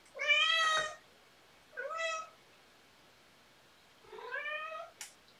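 A house cat meows three times close by, each a clear, drawn-out call with pauses between, the first loudest, followed by a short sharp click at the end in an otherwise quiet room.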